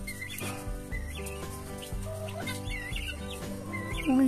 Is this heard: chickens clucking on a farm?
yes